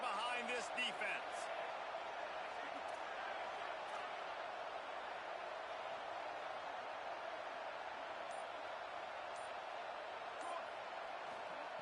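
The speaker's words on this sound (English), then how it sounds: "Big 3rd down as the crowd gets behind this defense." Football stadium crowd roaring steadily throughout a big third-down defensive stand in an Alabama home game against Texas A&M, a loud continuous wall of cheering with faint whistles and clatter, no talk in the foreground.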